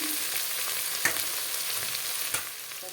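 Spices fry in a pan for a snakehead fish curry with chili, turmeric, cumin powder and mustard: a steady, close sizzle with a few sharp stirring knocks.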